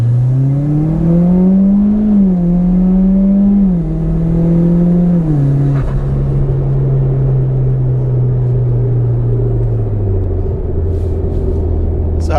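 A Mitsubishi Evo X with an SST gearbox accelerates onto a motorway in second gear, its engine drone rising steadily in pitch, dipping briefly at a shift, then holding an even rumble before easing off.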